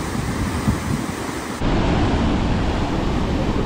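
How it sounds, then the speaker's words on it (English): Roaring rush of Petrohué Falls in Chile beneath Volcano Osorno, a loud, steady broadband roar with wind buffeting the microphone, no voices. "So this is Petrohué Falls and Volcano Osorno."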